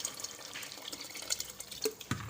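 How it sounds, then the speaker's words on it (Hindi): Water is poured into a pot of fried meat to make gosht broth, splashing and trickling with sizzling bursts and a few louder drips near the end, close up and without speech. "अब मैं इसमें पानी डालूंगी शोरबे के लिए।"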